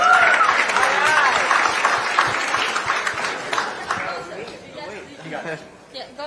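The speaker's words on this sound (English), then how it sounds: "Clap it up for equity" Applause at a community panel on South Central identity and power swells loud at first, then thins out. Crowd chatter, some laughter and voices mix in as the clapping fades.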